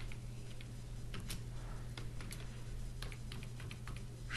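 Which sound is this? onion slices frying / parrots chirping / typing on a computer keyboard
typing on a computer keyboard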